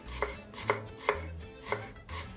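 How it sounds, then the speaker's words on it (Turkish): A knife coarsely chops onions steadily on a cutting board, five or six crisp thuds spaced evenly, close and clear with no talking. "Soğanlarımı iri kıyım doğrayacağım."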